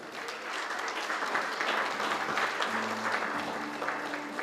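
Steady, dense applause from a conference audience honouring dignitaries at an auto retail conclave's inaugural session, a continuous wash of many hands clapping with no let-up through the whole stretch.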